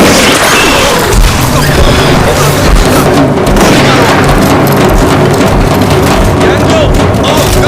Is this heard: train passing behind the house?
no